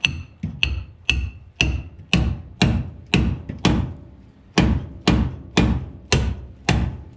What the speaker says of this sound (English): I don't have much room to swing a hammer.